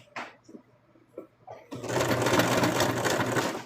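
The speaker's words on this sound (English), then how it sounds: "right now I'm sewing through several pieces of material" A sewing machine stitches through several layers of material, the pink and white sides of a plush mouse ear, running loud and steady for about two seconds after a few soft handling taps.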